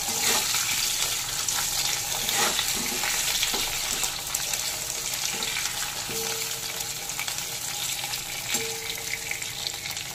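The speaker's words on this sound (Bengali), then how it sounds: "আলুগুলো সামান্য একটু ভেজে নেব" Salted potato pieces fry in oil, giving a continuous dense sizzle with scattered crackles and light clinks of stirring throughout, steady and fairly close.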